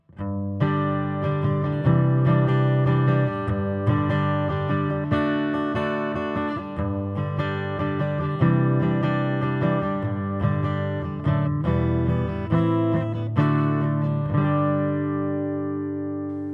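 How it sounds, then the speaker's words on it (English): An acoustic guitar played through a piezo pickup into a Fractal FM3, bright and slightly brittle strummed chords and notes ringing out over several bars, with no voices. "The piezo system by itself sounds like this."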